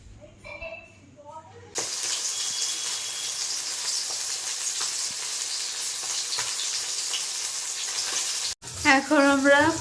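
Pabda fish hit hot oil with a sudden loud sizzle that crackles steadily for several seconds, framed by brief speech before and after.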